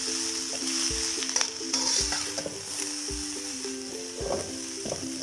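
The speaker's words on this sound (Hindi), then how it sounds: "सब्जियां हमारी डाल गई हैं, अब हम इनको थोड़ा सा फ्राई करेंगे।" Vegetables frying in oil in a pan for homemade chicken chow mein, a soft steady sizzle broken by several scraping stirs and a few light knocks of the utensil, with no one talking.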